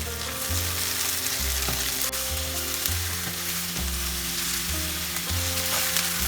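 Paneer bhurji with fresh coriander sizzles steadily in a pan over a low flame while a spoon stirs it, with soft rhythmic scrapes and knocks against the pan over constant frying hiss, close and moderately quiet, no talking.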